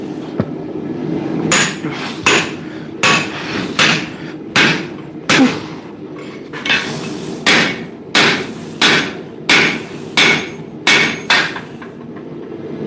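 Hammers being forged two at a time from shear steel at a smithing forge: about fifteen sharp, loud hammer blows on hot metal ring out in a steady rhythm, close by, with a low workshop hum beneath and no talk.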